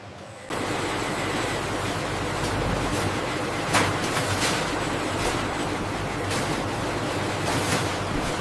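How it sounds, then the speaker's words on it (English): Controlled water spray system washing Musang King durians in a modern processing factory, a steady broadband hiss of spraying water that runs continuously at even loudness, with no talk. "Musang King durians pass through controlled water spray systems."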